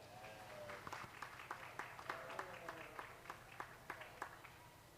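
Audience at a livestock show applauding, a soft, distant patter of scattered hand claps over a hum of the hall, fairly faint.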